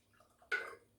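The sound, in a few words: hot water poured into gummy molds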